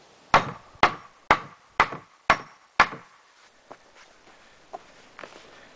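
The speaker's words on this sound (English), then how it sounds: "And then you can take another 2x4 to knock that one through" Six sharp wooden knocks in a steady rhythm as a 2x4 knocks pallet wood through, close and loud, followed by a few fainter scattered taps.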